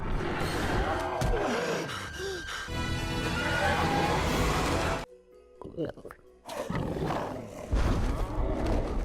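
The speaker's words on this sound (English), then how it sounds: "The sound Toothless makes are a mixture of different animals such as pigs, elephants, and horses." An animated dragon roars and snarls with layered growling tones blended from pig, elephant and horse sounds, breaks off into a brief quiet stretch with a sharp gasp, then rumbles again.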